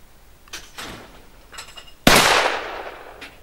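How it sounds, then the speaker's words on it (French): A sharp, loud gunshot from the lower barrel of a Browning Héritage 20-gauge magnum over-under shotgun bursts out midway and rings off with a long decaying tail, preceded by fainter clicks and rustling handling noises. "On va tirer le canon du bas en premier."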